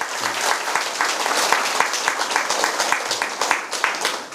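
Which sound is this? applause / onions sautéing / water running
applause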